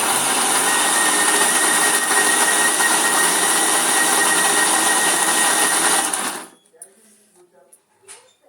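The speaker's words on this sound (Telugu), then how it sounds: "ఇప్పుడు మిక్సీ పట్టుకుందామండి." A mixie grinder whirs loudly and steadily for about six seconds, coarsely grinding a chutney of coriander, curry leaves and salt, then cuts off abruptly into near quiet.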